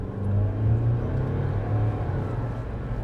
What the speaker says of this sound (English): That went from engine being entirely switched off to going on.